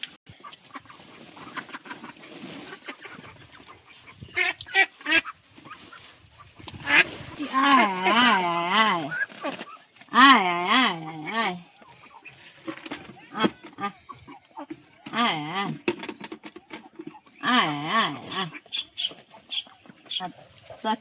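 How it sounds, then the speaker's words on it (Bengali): Ducks quack loudly and nearby at a pond in the Sundarbans in repeated harsh bursts, some long and wavering, with brief quiet gaps and a few voices between. "চারটে হাঁস আছে চারটে দুটো হাঁস আছে এখানে"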